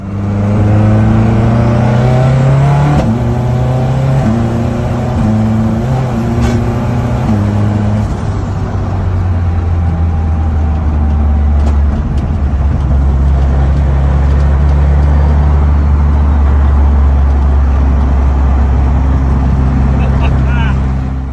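A Mazda RX7 FD with drag suspension launches hard with one wheel spinning, its loud engine climbing through stepped revs before settling into a sustained, roaring drone as it pulls away.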